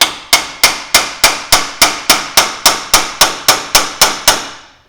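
A brass hammer taps a lower arm onto the knuckle studs of a Land Cruiser 80 Series: fourteen crisp, evenly spaced metallic strikes, close and loud, each ringing briefly before the next.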